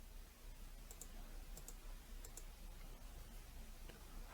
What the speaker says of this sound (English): And then left click through some prompts here.